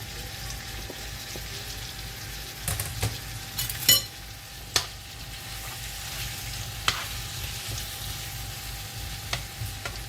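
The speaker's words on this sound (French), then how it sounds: "Je vais laisser griller la viande." Meat frying in a pan sizzles steadily at a low level, with occasional clinks and scrapes of stirring from a utensil scattered through the crackle.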